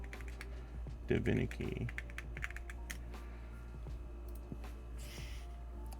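Keys clack steadily on a Tess65 mechanical keyboard fitted with candy box keycaps, with a brief burst of faster typing early on, recorded up close over a low hum, with a short spoken word in the middle.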